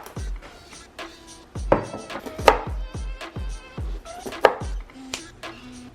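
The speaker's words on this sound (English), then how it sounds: "we're gonna chop up our broccoli" Broccoli being chopped with a knife on a cutting board, a run of about a dozen sharp, uneven knife thuds with crisp crunches, close and clear with no one speaking.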